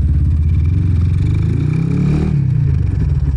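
Honda Tiger motorcycle fitted with a KTM replica exhaust runs close by with a deep, throbbing engine note that swells briefly in a rev around the middle and then settles back.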